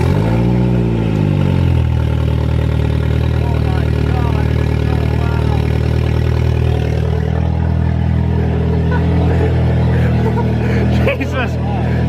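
A Saab 9-5 wagon engine with a catless straight-pipe exhaust starts up and then idles, a loud, steady, rough drone close by that holds for many seconds, with a voice talking over it.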